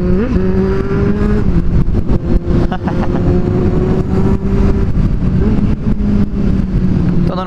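Kawasaki Z750 motorcycle downshifting on the road, the engine droning loud and steady with pitch steps as gears drop, plus blips and rumble over constant wind buffeting.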